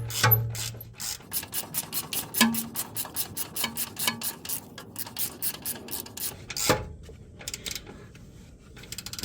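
A 19 mm ratchet clicks in rapid, steady bursts while tightening the bottom shock bolt on a Toyota Land Cruiser 100 Series, close and clear with brief pauses between strokes.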